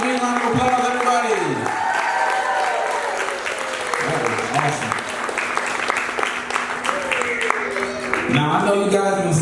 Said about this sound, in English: can we get another big round of applause